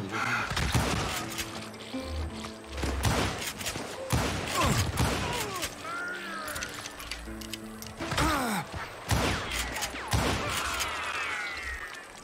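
Repeated bursts of rifle fire crack in quick volleys over a busy, noisy soundscape in the Western video game Call of Juarez: Gunslinger, with shots clustered in several loud bursts throughout.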